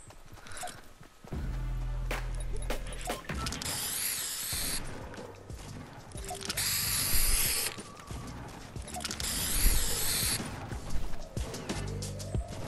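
Spray painting in Fortnite, with hissing bursts of the in-game spray can layered over mechanical clicks, footsteps and game sounds, and faint voices in the background.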